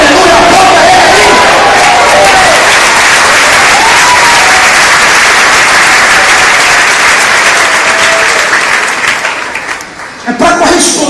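Church congregation applauds loudly and continuously, a dense wash of clapping with crowd voices and cheers mixed in, fading near the end as speech resumes.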